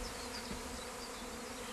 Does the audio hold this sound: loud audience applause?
no